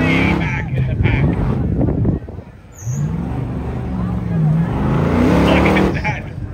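Off-road race vehicles roaring through traffic at the King of the Hammers 2023 desert race, engines revving loudly with a brief drop midway, while a commentator talks over the noise.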